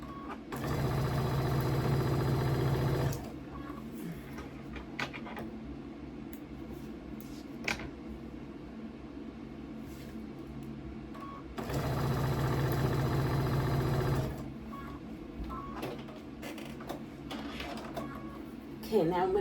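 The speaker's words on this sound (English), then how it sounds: "And we're sewing at 1/4 of an inch." A sewing machine stitching quilt fabric at a quarter-inch seam, two steady whirring runs of about three seconds each, separated by quieter handling noises of the fabric, close and clear.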